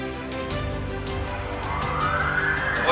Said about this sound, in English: all you hear is sirens in the background